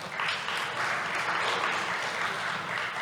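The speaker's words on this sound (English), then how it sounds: "Clap, clap." A women's group audience at an award ceremony claps steadily throughout, a dense wash of many hands at moderate loudness, heard from within the hall.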